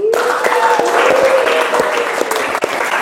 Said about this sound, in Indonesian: Tepuk tangan lah tuh.